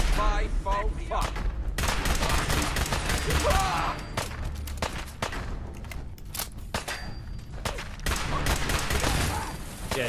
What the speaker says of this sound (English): shooting your dinky little pistol at someone wearing a full suit of Enclave Mark 6 power armor